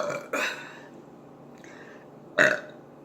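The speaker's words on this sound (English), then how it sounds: "Let's do this last 5th burp from the rest of this." Loud, close burps from someone stuffed after eating a homemade four-meat burger, two quick belches near the start and a stronger one near the end, with quiet in between.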